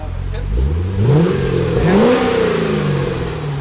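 A 2008 Chevy Corvette's LS3 V8 revs through Magnaflow exhaust with an X pipe, two deep rising blips swelling and falling back to a burbling idle, close by, with a voice talking over it.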